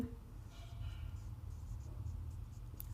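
A math teacher writes an equation by hand during a Class 12 differentiation lesson, producing soft, continuous scratching strokes over a low steady hum, close and fairly quiet, with no one speaking.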